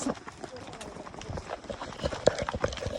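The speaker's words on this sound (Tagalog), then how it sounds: "Siya may kabayo." A horse near Kaindy Lake, Kazakhstan clip-clops at a steady walking rhythm, its hooves moderately close and fairly faint beneath background chatter and outdoor ambience.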